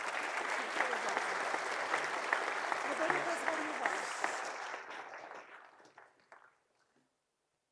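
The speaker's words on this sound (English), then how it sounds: "At this moment, applause." Audience at an academic year inauguration applauding, a dense, steady clatter of many hands that carries on for several seconds, then thins out and fades to silence.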